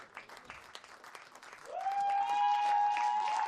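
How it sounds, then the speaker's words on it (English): Crowd applause for the athletes' walk-in at a junior skeet gold medal match, light scattered clapping that swells as a sustained loud musical tone enters and holds. "So big applause for our heroes, which are fighting for the title."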